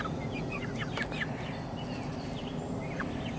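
Chickens cluck softly and chirp in short bursts over a steady low background rumble, fairly quiet and somewhat distant.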